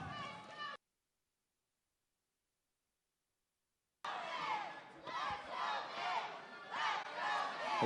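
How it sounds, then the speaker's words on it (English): Crowd chanting at a wrestling match, a rhythmic, repeated shout from many voices that cuts out for several seconds and then returns strongly in regular bursts. "The crowd is saying, "Let's go, Mitch.""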